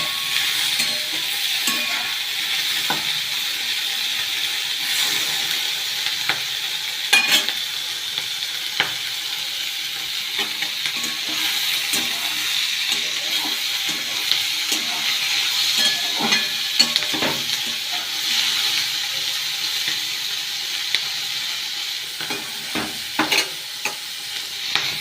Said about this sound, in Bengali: ভালোভাবে নাড়াচাড়া করতে হবে যাতে পুড়ে না যায়।